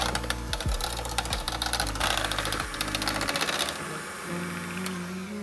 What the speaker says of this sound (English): I'm just going to go ahead and begin mixing this with my hand mixer.